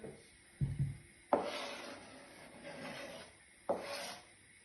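A sharp knife cuts on a wooden chopping board in a home kitchen, with two quick taps followed by two longer scraping strokes, close and fairly quiet.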